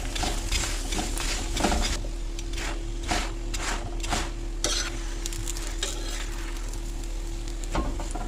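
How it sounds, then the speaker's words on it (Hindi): Paratha crisping in ghee in a pan, a steady sizzle with repeated scraping and tapping of a utensil against the pan at an uneven rhythm, fairly close. "अब हम इसके ऊपर लगाएंगे घी, और घी में ही पराठा आपने बनाना है, फिर ये क्रिस्पी बनेगा।"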